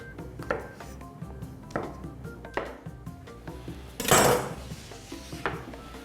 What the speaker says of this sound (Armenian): Այս չափի սունկը մոտ 6 մասի կբաժանենք։